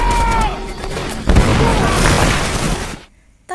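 A bomb detonates in a war film, a loud deep boom rolling into a rumbling blast over a dense background of score and effects that cuts off abruptly near the end.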